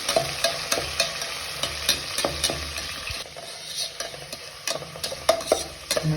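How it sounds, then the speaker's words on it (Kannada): Green chillies fry in a pan while a utensil stirs and scrapes at a regular pace, close and moderately loud over a soft sizzle. "ಒಂದು 4 ಮೆಣಸಿನ್ಕಾಯಿ ಹಾಕ್ಕೊಂಡು ಫ್ರೈ ಮಾಡೋಣ"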